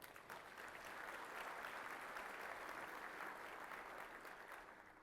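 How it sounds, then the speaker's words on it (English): Conference audience at an automation technology event breaks into sustained applause, a steady, fairly distant crackle of many hands clapping that swells quickly and tapers slightly at the end. "So how about a round of applause?"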